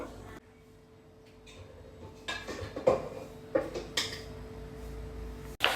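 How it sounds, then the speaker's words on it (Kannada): A knife chopping watermelon into small pieces, several separate sharp taps and clicks on a board spaced irregularly after a quiet opening, close and fairly faint. "ವಾಟರ್ ಮೆಲನ್ನ ಚಿಕ್ಕ ಚಿಕ್ಕದಾಗಿ ಕಟ್ ಮಾಡ್ಕೊಬೇಕು"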